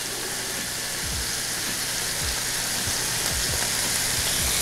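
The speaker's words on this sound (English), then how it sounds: "In the other half of the pan, I'm gonna add some more olive oil. And I'm gonna add the mushrooms" Mushrooms frying in olive oil in a pan, a steady dense sizzle with occasional soft knocks and stirring clunks, close and continuous with no talk.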